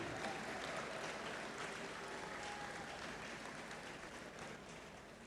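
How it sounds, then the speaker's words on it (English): Faint, steady wash of crowd applause from parents in the audience at a school graduation and achievers' ceremony, continuing unbroken for the whole stretch and easing off slightly near the end. "All the parents, a round of applause to you."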